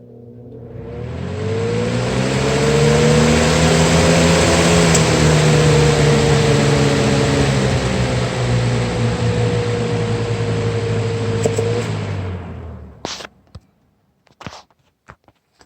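A Lasko 3733 box fan from 2016 spins up from rest, a rising motor whine and airy rush that swells, holds steady loud and close, then cuts off, followed by a few clicks and faint handling noises.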